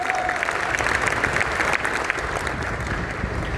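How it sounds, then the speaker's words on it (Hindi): An audience at a seminar applauds continuously, a dense, even wash of many hands clapping at moderate distance with no letup. "एक बार जोरदार तालियां होनी चाहिए उसके लिए।"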